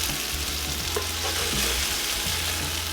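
Beef sausage sears in a hot pan with a steady, close sizzle and frying crackle, and some stirring noise is mixed in.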